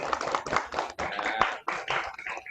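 A university class claps hands in quick, slightly uneven bursts for a couple of seconds, close by and fairly loud.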